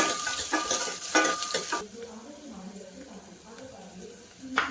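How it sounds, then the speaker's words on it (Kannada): Finely chopped ingredients hiss and sizzle in hot oil in a home kitchen, a strong frying crackle over the first two seconds, then a quieter simmering sizzle with light stirring and scraping as a voice talks intermittently. "ಇದನ್ನ ಫ್ರೈ ಮಾಡಿ ಬಿಡೋಣ"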